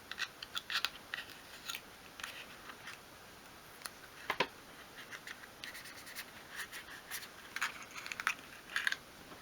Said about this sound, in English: just use the smaller scissors to trim a little bit off each side.